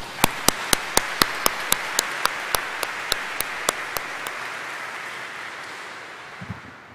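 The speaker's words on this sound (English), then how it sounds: "let's applaud the award winners once more" Applause for award winners at a high school baccalaureate Mass: a run of loud, evenly timed claps pounding over a softer wash of clapping, slowing and thinning out until the room falls quiet.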